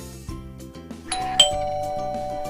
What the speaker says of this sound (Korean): 반가운 사람이 누르는 초인종 소리네요.